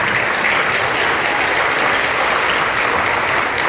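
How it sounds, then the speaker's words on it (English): Steady, dense applause from a school assembly crowd cheering the fourth grade, loud and continuous throughout with no talking. "Let's give them a round of applause."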